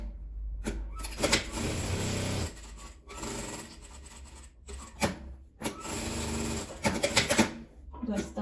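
Sewing machine stitching a denim bag lining closed, heard as close, loud bursts of whirring stitching separated by short pauses, with someone talking between runs.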